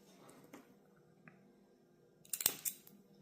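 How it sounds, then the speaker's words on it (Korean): Thread snips close on waxed thread for a handmade leather bookmark, a quick crisp cluster of snipping clicks near the end, close and clear after near silence. "쪽가위로 잘라주겠습니다."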